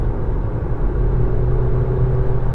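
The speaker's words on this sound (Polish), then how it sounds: "trochę więcej gazu dołącza się silnik spalinowy" Kia Niro 1.6 GDI plug-in hybrid accelerating on city streets with its petrol engine engaged, a continuous loud low rumble and rising engine tone inside the cabin, no talking.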